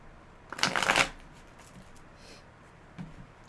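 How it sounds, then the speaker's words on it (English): Tarot cards are riffled together in one quick, crisp shuffle, followed by a few soft handling sounds and a faint tap. "I'm going to go ahead and shuffle the cards."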